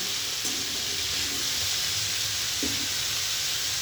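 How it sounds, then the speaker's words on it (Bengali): Potatoes and cauliflower for a singara-style cauliflower curry fry in a pan with a steady, even hiss, a couple of soft stirring knocks, and no voices. "আলু ফুলকপি খুব ভালো করে ভাজা হোক।"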